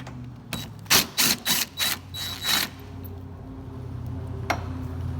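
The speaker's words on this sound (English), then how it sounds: "take a 10mm socket, and we're going to take this bolt out" A 10mm socket wrench works a bolt on the door of a 2012-2016 Honda CR-V, giving a close run of five or six quick, evenly spaced ratcheting clicks and then a single faint click a moment later.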